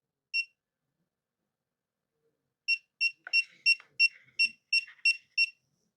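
FPV goggles beep once while connecting, then after a pause give a quick run of eight evenly spaced high beeps, close and clear, with faint clicks in between.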